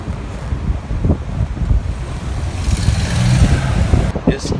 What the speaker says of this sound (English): It's definitely a windy day